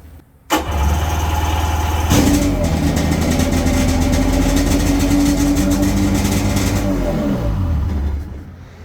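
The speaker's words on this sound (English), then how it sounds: "I'll fire up both engines at the same time." Two 1996 Sea-Doo Speedster jet boat engines crank and start, then settle into a loud, steady, rumbling idle close by before cutting off near the end.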